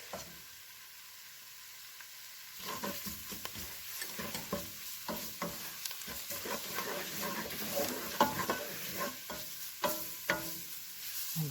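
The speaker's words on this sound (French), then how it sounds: "nous allons ajouter donc le concentré de tomate. Et on va le laisser cuire donc quelques minutes" Tomato paste cooks in a browned flour roux for sauce espagnole, a soft bubbling sizzle with irregular stirring scrapes and clicks of a utensil, quiet at first and busier from a few seconds in.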